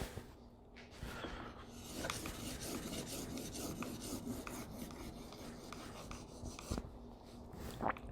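Rough, steady rasping of a blade being sharpened on a stone, strokes continuing back and forth at close range.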